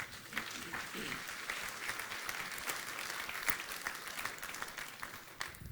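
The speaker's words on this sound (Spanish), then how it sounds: "Denle un aplauso al Señor." A church congregation applauding during a Spanish-language general meeting, sustained, fairly faint clapping from many hands heard from a distance with a hall-like spread.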